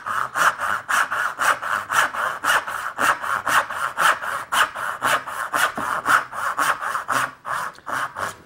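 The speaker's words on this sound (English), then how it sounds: "the saw is cutting beautifully" Hand saw with freshly hand-filed crosscut teeth cutting through wood: a steady, close rhythmic rasp of about two strokes per second, each push and pull clearly separated, with no talking.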